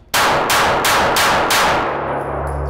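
Handgun rounds fired in quick succession at shooting practice, about four to five loud sharp cracks spaced roughly a third of a second apart, each with a ringing tail, ending in a low hum.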